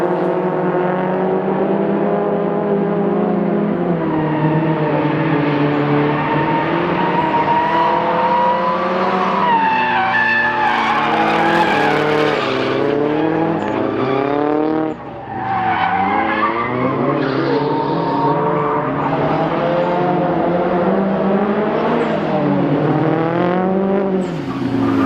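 Cars drifting in tandem, including a turbocharged 2JZ-powered Nissan S15, with long continuous tire squeal layered over high, wavering engine revs that rise and fall for the whole stretch, loud and close.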